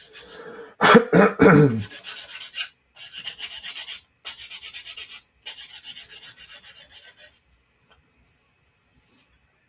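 Rhythmic rasping strokes of a sanding stick on thin plastic of a model ornithopter, repeated in steady bursts, close up, with a few sharper scrapes early and a quiet ending.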